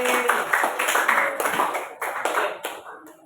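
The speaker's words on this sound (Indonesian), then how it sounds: "Tepuk tangan semuanya untuk Intan." A class of students clapping hands together in a classroom, a steady run of sharp overlapping claps that swells and fades in short bursts over a few seconds, fairly close and loud.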